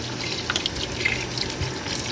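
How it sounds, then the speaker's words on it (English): Water pours into a cooking pot for adobo with a steady close splashing rush and a few brighter drips throughout. "throw a little bit of water"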